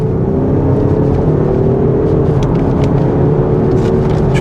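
Audi diesel car pulling hard in fourth gear in manual mode from about 2,500 RPM, a steady, loud engine drone with a rising hum inside the cabin, unbroken and without talk.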